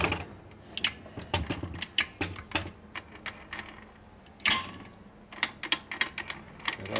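The transmission of a 1977 Harley XLCR motorcycle is shifted by lever, giving a string of sharp mechanical clicks and clunks in quick bursts, close and fairly loud, with a brief pause midway.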